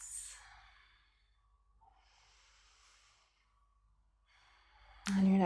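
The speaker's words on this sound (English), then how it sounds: "Take a couple breaths." Slow, quiet breathing during a gentle yoga hold, soft sighing exhales and inhales spaced a second or two apart, ending in a louder burst of breath.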